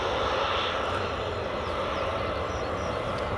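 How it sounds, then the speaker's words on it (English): A Jet2 airliner taxis at Edinburgh Airport as a steady, broad engine roar fills the air, constant and fairly loud, with no voices over it. "that's a Jet2 holidays just taxiing out now"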